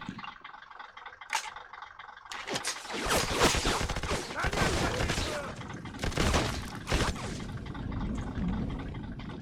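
Explosions and bursts of gunfire in the shooter game Black, a dense roaring blast that swells and rattles over several seconds amid continuous combat noise.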